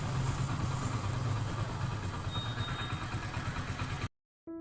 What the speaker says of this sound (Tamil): இன்ஜின் நாய்ஸ் இப்போது சாஃப்டாக ஸ்மூத்தாக ரொம்ப அருமையாக இருக்குது